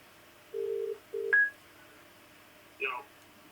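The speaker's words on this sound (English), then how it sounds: "I'm just going to call my friend Kyle and basically test out the speakerphone function to see how this goes" Dialing tones and a ringback come through a Bose Revolve+ portable Bluetooth speaker used as a speakerphone: two steady electronic tones, then a short chirp and another tone, clear and alone against a quiet background.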